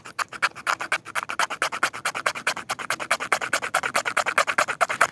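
Rapid rhythmic scraping of shavings off a flammable fire-starter card with a survival necklace striker, a steady train of sharp rasping strokes, close and fairly loud, with no talking.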